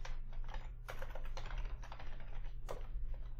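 Rapid keystrokes on a computer keyboard, close and fairly quiet, with an irregular run of clicks over a steady low electrical hum and no speech.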